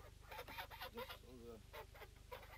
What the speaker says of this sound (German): Die ganzen Hühner und Enten.